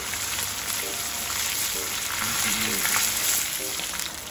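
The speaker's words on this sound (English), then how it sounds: "So you be careful when you're frying, okay?" A dense, steady sizzle and crackle of chicken deep-frying in hot oil, loud and close, with faint bubbling throughout.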